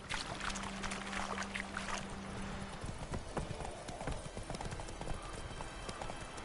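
Roach the horse from The Witcher 3 gallops with a steady rapid clip-clop of hooves, fairly close and continuous, over a bed of ambient game noise with a faint tone early on.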